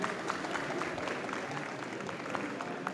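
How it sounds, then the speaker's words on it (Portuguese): An audience at a tech conference applauds, and the dense clapping holds at an even level for a few seconds. A little crowd murmur runs underneath. "Palmas para Vinícius."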